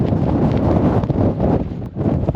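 Strong gusts from the tail end of Storm Darragh at a wild camping spot, roaring and buffeting the microphone loudly and continuously with brief dips.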